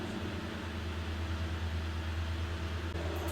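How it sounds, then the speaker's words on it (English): Air conditioning running indoors, a steady low mechanical hum with a constant airy hiss, unchanging and fairly quiet throughout with no voices. "It's just the air conditioning."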